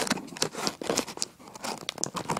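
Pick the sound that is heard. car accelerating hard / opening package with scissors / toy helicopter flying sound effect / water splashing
opening package with scissors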